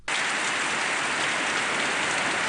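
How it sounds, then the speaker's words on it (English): Heavy rain pours down in a downpour in Abuja, a dense, even hiss of water striking surfaces that starts abruptly and stays loud and constant throughout, with no voices. "The roads in Area 1 was hit by the downpour"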